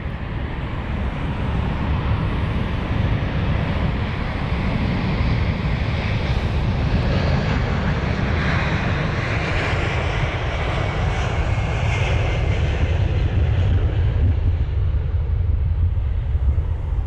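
An airliner departs London Heathrow, its jet engines a loud, steady roar held for the whole stretch, with a broadband rumble and some wind buffeting on the microphone, no voices.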